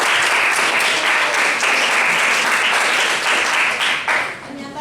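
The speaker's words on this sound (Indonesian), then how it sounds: "Kasih tepuk tangan." Sustained applause from a crowd, steady and dense for several seconds before tapering off near the end.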